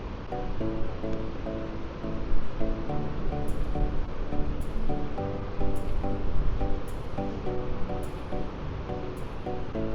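Surf breaking at the Hellgate entrance to Macquarie Harbour in Tasmania, a continuous broad wash of waves with rolling swells and wind, heard from a distance without talk.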